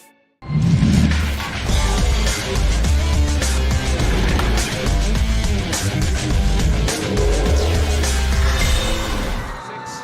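Porsche race cars roaring past during the Nürburgring 12-hour endurance race, a loud sustained engine drone with shifting intensity as cars pass, continuous and close throughout.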